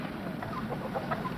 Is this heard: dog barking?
no